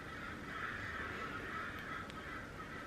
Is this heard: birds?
yes